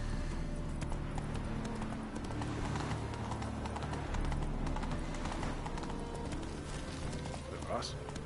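Horse hooves clip-clop in a steady galloping rhythm in The Witcher video game, continuous and fairly close, with game ambience underneath.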